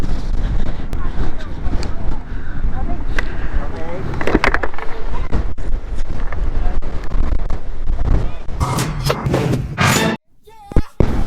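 Strong wind buffets the microphone with heavy, rumbling gusts at Malico, San Nicolas, Pangasinan, while people talk intermittently beneath the roar.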